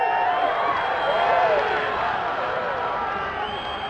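A crowd at a kids' bowl-eating game cheers and whoops in a steady, bright roar, with a voice talking over the noise.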